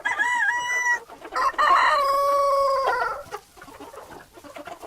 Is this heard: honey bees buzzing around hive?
no